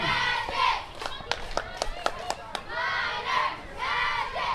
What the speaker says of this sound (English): We got the Nevada Union Junior Minors football and cheer. You probably can hear them through my microphone.